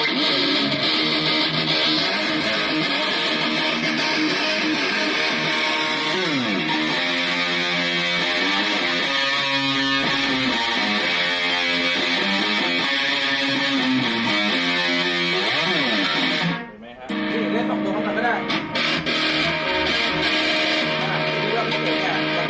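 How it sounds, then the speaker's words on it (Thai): Heavily distorted twelve-string electric guitar strummed in thick, ringing chords, loud and continuous, with a brief dropout near the end. "ตัวบนที่เป็นตัว12สายเนี่ยถามว่าเล่นเสียงแตกได้ไหม"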